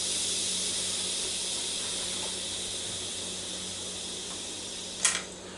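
Steam hisses steadily out of an Instant Pot pressure release valve, a broad, constant rush that runs almost unbroken before a brief sharper burst near the end.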